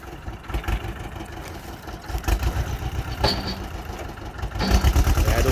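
A tractor runs a 1.6-metre offset grass mower with Y blades, giving a close, rough engine rumble that surges and dips as it works.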